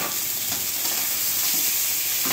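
Sausage fries in a pan with a loud, dense, unbroken sizzle and hiss, close up and constant throughout.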